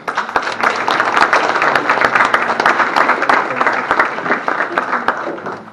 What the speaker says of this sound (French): je souhaite que nous les applaudissions très fort